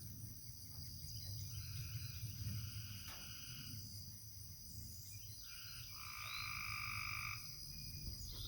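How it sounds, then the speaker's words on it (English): Tree frogs croak about an hour before sunset, with one calling close outside a hunting blind. Its repeated rasping calls rise over a steady chorus of crickets and insects at moderate, even loudness. "The tree frogs have started up."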